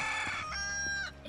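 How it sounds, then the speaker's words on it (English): Chickens cluck and crow in Final Fantasy 7 Rebirth's Gongaga region, a close, loud run of squawky fowl calls with no speech over it. "Follow red for more chickens."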